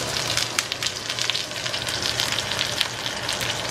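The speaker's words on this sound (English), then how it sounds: "We're gonna flip it, and we're gonna sear every piece of the side of the lamb." Lamb pieces sear skin side down in a hot pan, giving a steady, close, loud sizzle and crackle of spitting fat with no talking.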